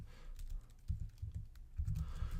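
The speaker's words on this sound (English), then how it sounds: "I gotta get better at typing" Quiet, rapid clicking of computer keyboard keys, typed in short uneven bursts at close range with no one speaking.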